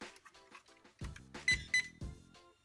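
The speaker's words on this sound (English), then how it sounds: "Got some beeps and some lights." A toy 1/10 scale JJRC Q65 Willys MB RC jeep beeps as it switches on, a short run of clear electronic tones that rises in level with a few distinct louder beeps near the end, and no talking.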